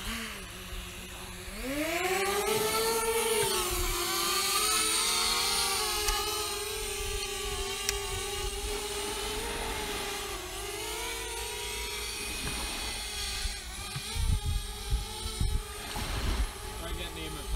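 Camera drone rotors whir steadily, rising in pitch as it lifts off and then holding a sustained buzzing hover over open ground near a cave, while people talk in the background.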